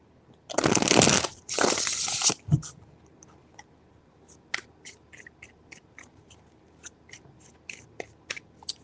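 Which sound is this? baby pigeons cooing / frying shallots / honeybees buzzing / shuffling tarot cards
shuffling tarot cards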